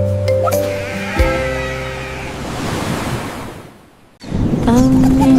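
Sheep bleats sound loud and near against a wash of ocean waves, with a short break before the surf rushes back in.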